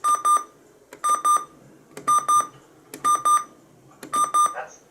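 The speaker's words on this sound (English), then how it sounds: "the version 9's by default had the alarm clock enabled" A radio's built-in alarm clock, enabled by default, beeps in five evenly spaced bursts of rapid tones, each burst about a second apart, loud and clear with no talk over it.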